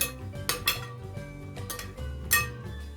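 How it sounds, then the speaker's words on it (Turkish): Soaked fine bulgur stirred in a bowl, with a few bright clinks of a spoon against the dish over a low kitchen background, no talk. "Bulgurlarımızı şöyle bir karıştırdıktan sonra"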